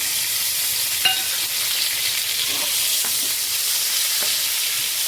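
Tomatoes go into a pan of frying onions and red chillies, giving a loud, steady sizzle with a few brief clinks of a spoon and no talk.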